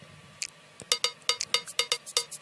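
Crisp pop finger snaps in a K-pop intro groove, a quick run of about ten bright clicks in steady rhythm, close and dry, with no voices.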